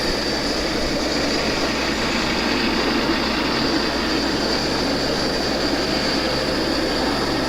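A steady, continuous rumble of Penn Central model train locomotives on a DC layout laboring uphill, with broadband mechanical noise and a low hum throughout, no voices.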